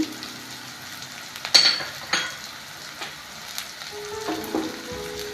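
Turmeric, chicken masala and pepper powder are stirred into a frying coconut gravy for Kerala-style egg curry, a low steady sizzle with a few scraping spoon strokes and faint pan clinks, no voices.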